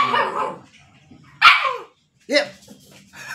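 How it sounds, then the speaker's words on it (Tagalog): A dog barks several times in sharp, separate bursts with short pauses between, close and loud, with a whimpering quality and faint talk. "pasensya na kayo tong may magulong aso."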